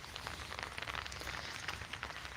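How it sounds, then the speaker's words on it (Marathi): Heavy rain pours down steadily outdoors, a faint, even hiss of drops on surfaces with no break and no voices. "आज पाऊस काय थांबण्याचं नाव घेत नाही"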